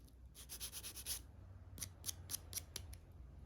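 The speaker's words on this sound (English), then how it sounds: "I'm gonna use my sanding stick." Soft, quick rubbing strokes of a sanding stick on a small metal tube rivet, a rapid run followed by a slower series of scrapes, quiet and close.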